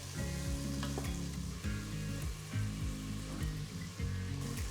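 Dark soy sauce, vinegar and red chilli sauce are stirred together in a pot during saute, giving a steady sizzling, scraping mix of utensil strokes against the pot with background music.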